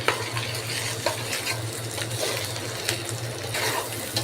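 Rice sizzles as it is fried and stirred in a pot while making biryani, with a steady crackling hiss and scraping strokes of the spoon throughout and no talk.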